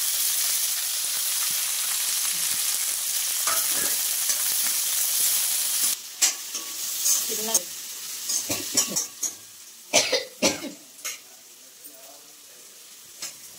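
Chopped green chillies and onion fry in hot oil, a steady sizzling hiss for the first few seconds, then sharper stirring scrapes and clatters of a utensil against the pan break through the sizzle.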